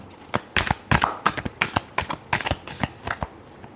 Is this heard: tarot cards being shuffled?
yes